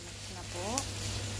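Beef and mushrooms in a creamy sauce being stirred in a hot pan give a soft, steady sizzle close by, with a voice talking briefly over it.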